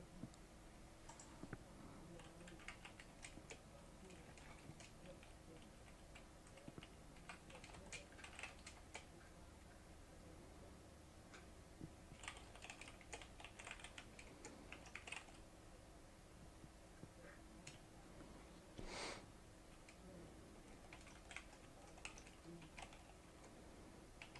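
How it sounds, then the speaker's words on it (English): Keys clatter steadily on a computer keyboard during a Pokemon Showdown battle, with irregular bursts of faint clicking and no talk over it. "I know I should be talking and typing at the same time"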